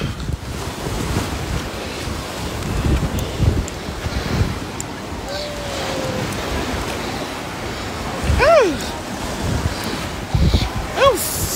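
Strong outdoor wind buffets the microphone in a constant heavy rumble and roar, with gusts swelling at moments and people's voices faintly breaking through.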